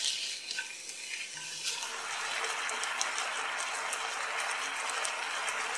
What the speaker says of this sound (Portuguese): Aí eu deixo os dois, a carne, tanto a cebola e o alho, né, os três, né, fritando juntos